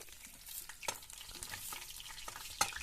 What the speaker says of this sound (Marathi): आता ह्या तेलामध्ये या फोडणीत आपण मस्त आलाद अशी सोडून घ्यायची